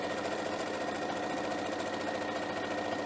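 Sewing machine running steadily while stitching fabric mask pieces, a continuous close mechanical whir with a fine rapid rhythm and no pauses.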